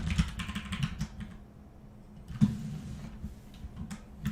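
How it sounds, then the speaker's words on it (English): Typing on a computer keyboard close by, with irregular clusters of light clicking keystrokes, a brief pause, then a louder key strike and more scattered tapping, with no talking. "I'll try to be quieter on the keyboard"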